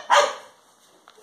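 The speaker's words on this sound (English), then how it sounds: "I'm sorry guys, where my dog is disturbing my video" A single pet dog gives one sharp, close bark, followed by faint rustling and a small yip near the end, with no talking.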